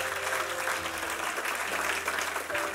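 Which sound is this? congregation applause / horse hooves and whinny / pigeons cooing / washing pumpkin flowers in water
congregation applause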